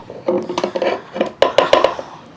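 A plastic container used for curd cream in a home kitchen is knocked and shifted, giving a series of hollow clattering taps and scrapes in two close bursts, with no voices.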